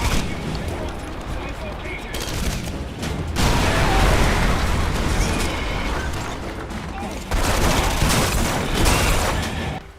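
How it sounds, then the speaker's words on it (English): Deep, thunderous explosions and gunfire in the urban combat of the video game Red Faction Guerrilla Re-Mars-tered, loud and bassy, with dense continuous rumbling that swells in heavy bursts around the middle and near the end. "The explosions are deep and thunderous and bone-shaking"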